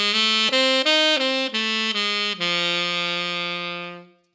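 A dominant sharp 9 pentatonic jazz phrase plays alone as a quick run of clear, sustained single notes stepping up and down, ending on a long held note that slowly fades out.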